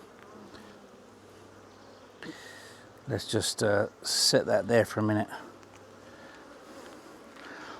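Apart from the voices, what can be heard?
honeybees buzzing around an open hive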